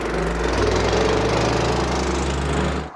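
A four-stroke kart engine runs steadily at close range on a track, a loud, even buzzing drone with a constant pitch that holds for nearly three seconds before cutting off abruptly.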